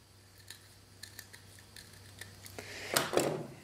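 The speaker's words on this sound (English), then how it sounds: "You can also cut them to fit." Bamboo skewers being cut to fit a mortise and tenon joint, a few light clicks and ticks, then two louder snipping cuts close by.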